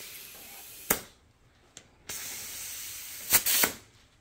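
Short bursts of compressed air from a decent shop air compressor inflating a dirt bike tire tube, several sharp hissing blasts separated by quieter stretches, close and fairly loud with no talking.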